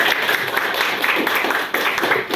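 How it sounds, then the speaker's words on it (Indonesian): Audience applause at a leadership-training character-building session, a dense wash of clapping from a roomful of people, steady and continuous throughout with no clear gaps. "Tepuk tangan dong buat panitia ya"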